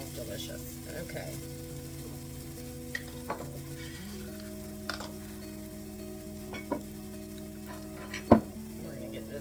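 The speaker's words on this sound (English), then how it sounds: "I don't want to burn the garlic." Chopped garlic sizzling in a soup pot, a soft steady frying hiss with occasional clinks of a stirring utensil against the pot, quiet and close.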